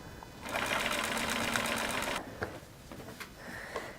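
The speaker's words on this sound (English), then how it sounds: "So I'm just going to sew straight down." A sewing machine stitches a straight seam on cotton, a rapid, even mechanical chatter for about two seconds at close range, then stops, leaving faint handling clicks.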